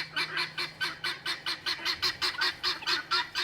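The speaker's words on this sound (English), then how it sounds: "We thought you all missed hearing the birds, so you get to hear them the whole video today" Geese honk in a rapid repeated series of about a dozen nasal calls at a steady rhythm, moderately close and fairly quiet, with no talking.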